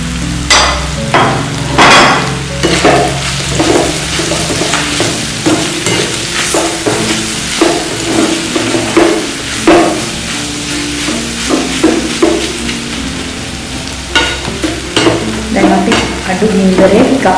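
Cuttlefish fries in a pan with green chillies over the flame, a constant close sizzle broken by repeated scraping and knocking as a spoon stirs and taps the pan, loud and alone with no talking.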